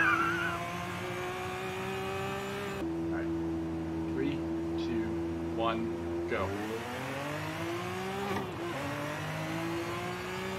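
F1 car accelerating in a drag race in Forza Horizon 5, a high-pitched engine whine climbing steadily through the gears, with gear-change drops and voices talking over it.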